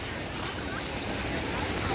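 Continuous rushing surf fills the scene, sea waves washing steadily close by with wind noise.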